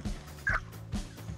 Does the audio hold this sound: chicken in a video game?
yes